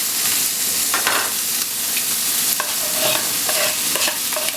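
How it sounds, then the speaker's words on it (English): Spinach dropped into a hot pan with cumin and salt, frying with a steady loud sizzle while being stirred, scraping strokes recurring through the hiss, no voices. "I'm going to add the spinach."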